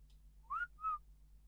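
A game character in Ark: Survival Evolved whistles two short tonal notes, the first rising and the second held briefly, fairly close and clear over a low steady background hum.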